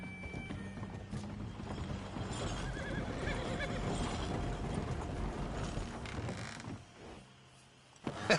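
Horse in Red Dead Redemption 2 whinnying, with clip-clop hooves and mechanical ratcheting, clanking sounds around it; a steady game soundscape with no speech.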